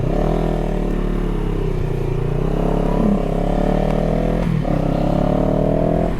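Steady, loud wind roar buffets a Scorpion EXO-AT960 helmet on a motorcycle at about 45-50 mph, with a continuous low engine drone underneath and no break throughout.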